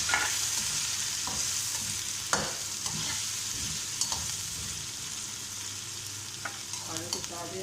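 Potatoes fry in a pan with onions and ginger garlic paste, a constant sizzle broken by the scrape and knock of a spoon stirring, with several distinct scrapes over several seconds and no talking.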